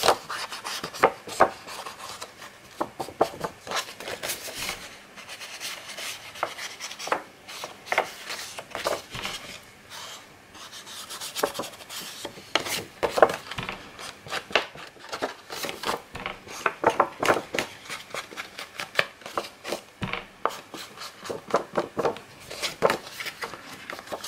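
Paper page edges being inked by hand for a scrapbook album, a soft, steady rubbing and scraping in quick irregular strokes, close and quiet with no talk.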